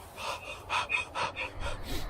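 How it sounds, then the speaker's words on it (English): A film protagonist, newly alone, panting in a string of six or seven sharp, ragged breaths at a steady rhythm, close and fairly clear. "Now we can hear the protagonist panting now that he's lost his friend and he's now alone."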